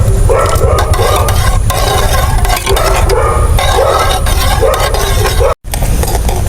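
A pot of vegetable soup with chopped coriander leaves being stirred, a loud continuous bubbling sizzle with rhythmic scraping strokes, briefly dropping out near the end.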